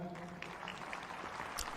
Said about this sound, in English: Nice applause for the British pairing.